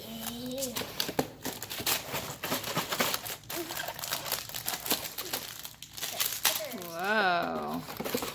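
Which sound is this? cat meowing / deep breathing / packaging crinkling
packaging crinkling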